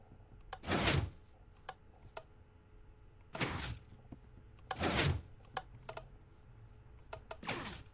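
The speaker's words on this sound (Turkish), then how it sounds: "gördüğünüz gibi otomatik açılan kapı" A Minecraft redstone automatic door with pressure plates and a sticky-piston door opens and closes: short clacking thumps and brief bursts recur several times in a quiet scene, with no talk.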